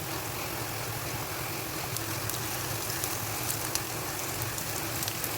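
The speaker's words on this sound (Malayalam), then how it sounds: "നന്നായി സോട്ട് ചെയ്ത് കൊടുക്കാം." Carrot, capsicum and cabbage for chicken noodles sizzle steadily in a hot pan, a continuous crackling hiss held at an even level with no talking.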